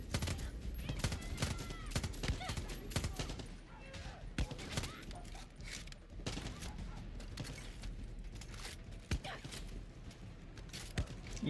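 Rapid gunfire from a video game crackles steadily in dense bursts, with sharp individual shots standing out above continuous firing, while voices talk over it.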